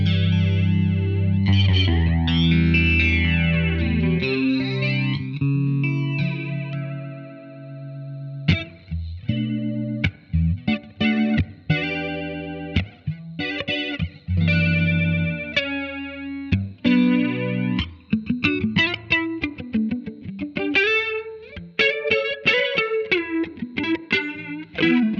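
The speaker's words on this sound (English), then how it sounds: "let's go flanger depth up more" Electric guitar through the flanger effect of a Blackstar Amped 2 amp with the depth turned up: chords and picked notes swirl and sweep with a hollow, jet-like shimmer, played alone and close with no talking.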